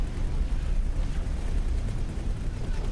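A ship explodes in the space game X4: Foundations with a dense, rumbling, low blast that rolls continuously for a few seconds at steady loudness.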